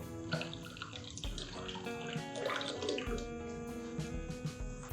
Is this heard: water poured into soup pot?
yes